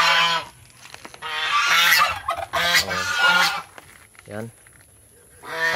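Loud, nasal honking from geese close by, repeated in bursts, with a person speaking briefly in between.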